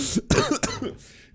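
A short run of several harsh coughs in quick succession, close and fairly loud, followed by a brief pause.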